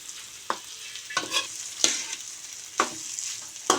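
Leftover rice being stir-fried for garlic rice, a soft background sizzle broken by about five sharp spatula scrapes and tosses at irregular intervals, no one speaking.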